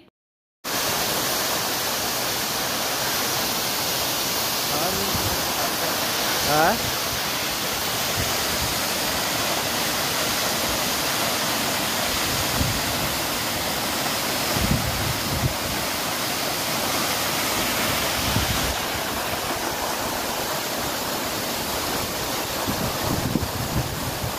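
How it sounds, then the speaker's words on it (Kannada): Huligemma's small mini waterfall in a village gives a steady, even roar of falling water that runs unbroken throughout, with faint wind mixed in. "ನೋಡಿದ್ರಲ್ಲ ಯಾವ ರೀತಿ ಬೀಳ್ತಾ ಇದೆ ಅಂಥೇಳಿ ನಮ್ಮೂರು ಹುಲಿಗೆಮ್ಮನ ಮಿನಿ ಜಲಪಾತ"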